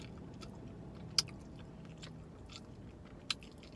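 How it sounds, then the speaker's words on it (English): Someone chewing and crunching a fried chicken bone, two sharp crunches spaced apart over quiet, close background noise with no talking. "he really did chew that bone up"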